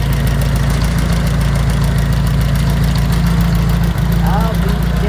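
A 1958 Willys DJ-3A Dispatcher jeep engine runs steadily at a loud, close idle with a throbbing low rumble, powered straight off the battery because the generator is not hooked up; someone briefly speaks over it.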